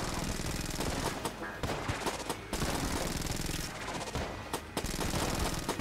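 Rapid gunfire in the video game Enter the Gungeon, a dense stream of automatic shots like submachine guns firing, with brief gaps between loud bursts, dominating the mix.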